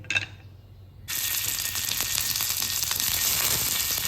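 Paneer cubes frying in oil on a dosa tawa: after a quieter opening, a loud steady sizzle bursts in about a second later and continues with crackling pops.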